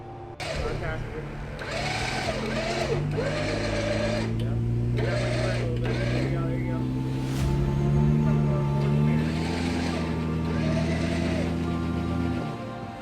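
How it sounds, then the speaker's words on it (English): An off-road vehicle's winch pulls rope on a steep black trail at an offroad park, a steady whining motor hum running under people talking. "Make that winch work a little bit."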